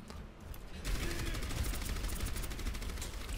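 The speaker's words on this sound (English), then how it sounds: "Okay, they're shooting my shield." Gunfire in the Overwatch hero shooter hits a hero's shield. Quieter game sounds give way after about a second to a loud, sustained stream of rapid automatic shots that continues to the end.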